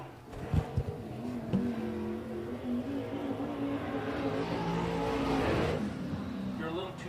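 A late model race car at Big O Speedway runs with a heavy, deep engine note, steady and moderately distant, swelling slightly before easing off, with faint voices underneath.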